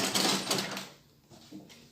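Sewing machine top stitching along a seam of a fitted men's native trouser, a fast mechanical whirr in short bursts that fades out, then a brief softer run near the end.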